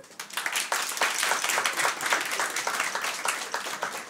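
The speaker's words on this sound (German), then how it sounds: "Einmal klatschen für die Rosen." Studio audience at a German stand-up comedy show breaks into steady, dense applause, loud and sustained for the whole stretch with no talking over it.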